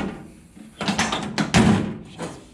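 Door of a Datsun 521 pickup truck swinging shut, a few loud solid thuds and latch clunks close by, with no talking.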